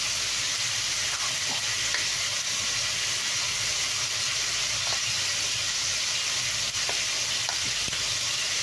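Broccoli and cauliflower stir-fried with lechon in a hot pan with oyster sauce, steady loud sizzling and hissing throughout, punctuated by occasional light clicks and scrapes of stirring.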